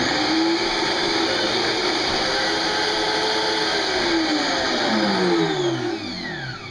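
A 2-horsepower BlendTec HP3A high-power blender runs loud and steady on its low setting, a dense whirring motor with shifting pitch that eases off slightly near the end.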